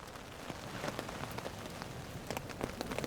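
Steady rain falls outdoors during a chamois hunt, pattering continuously on surfaces with scattered louder drops, close and even throughout with no voices.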